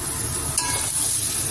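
Vegetable frying in a pan on a home kitchen stove, a constant close hiss of sizzling oil with a brief clink of stirring partway through.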